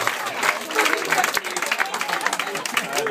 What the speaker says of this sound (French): Beaucoup d'applaudissements pour les personnes qui sont